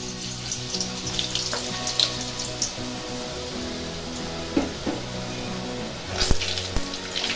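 A test drop of boondi batter is frying in hot oil, with a steady bubbling sizzle throughout and a few louder pops and crackles near the end, close by and without talk.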